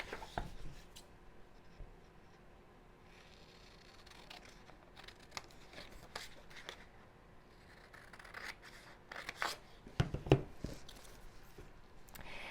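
Scissors snip around a paper triangle cut for a scrapbook layout, a quiet, close run of crisp cuts and rustling paper with intermittent louder snips, no talking.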